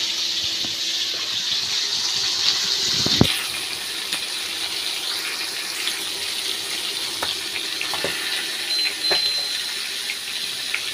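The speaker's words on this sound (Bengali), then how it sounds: "আর এখানে আমি ডাল ধুয়ে তারপর ভিজিয়ে রাখছি।" Tap water runs steadily into a sink while dal lentils are washed, a continuous close gush with a few soft knocks and splashes from handling the grains, and no talking.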